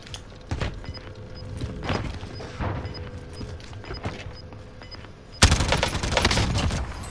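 An AK-74u fires in Call of Duty Cold War as scattered, separate shots and bursts mixed with game sounds, then turns into a louder, denser stretch of gunfire over the last couple of seconds.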